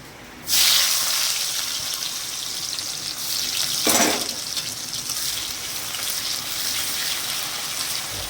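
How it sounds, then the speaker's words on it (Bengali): Onions dropped into hot oil for spiced khichuri burst into a loud, continuous hissing sizzle that carries on steadily up close, with a brief louder surge partway through and no voices. "এবার এখন পেঁয়াজটা ভেজে নিই।"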